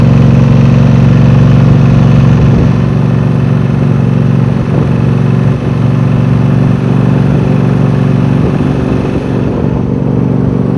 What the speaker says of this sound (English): We got not one mower, but 3 mowers to start and run